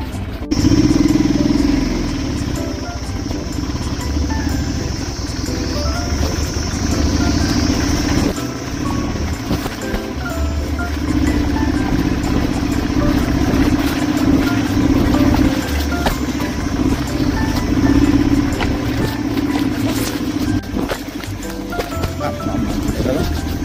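A motorcycle on an off-road ride from Q-khola to Phangdum Gumpa gives a steady, moderately loud engine drone throughout, with people talking over it.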